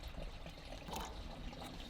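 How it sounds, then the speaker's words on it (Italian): Compost tea pours into a watering can already holding water, making a continuous rushing, splashing gush that stays fairly steady and close throughout, without any voices. "Vado ad aggiungere 1 litro poco più di compost nel mio innaffiatoio con l'acqua."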